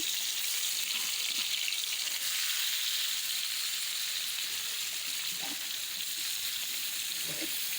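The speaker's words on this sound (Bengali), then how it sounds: "কই মাছটা লাল লাল করে ভেজে নিব" Koi fish fries in hot oil with a continuous, even hiss of sizzling close by, plus a few faint clinks near the end.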